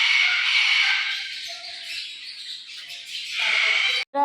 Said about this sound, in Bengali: কাকাতুয়ার আওয়াজ দেখছো কি চিৎকার করছে?